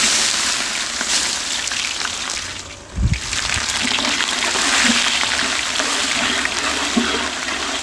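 Chopped onions, a full kilogram, tipped into well-heated cooking oil in a home kitchen, sending up a loud, continuous hiss and splatter that surges after a brief thump and then holds steady.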